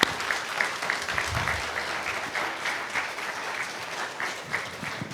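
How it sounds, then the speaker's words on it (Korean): Church congregation clapping together in praise after a prayer, sustained dense applause lasting several seconds at steady volume, with no speech. "우리 하나님께 영광의 박수 한번 드리겠습니다"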